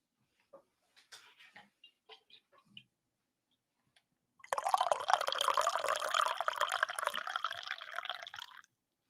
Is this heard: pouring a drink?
yes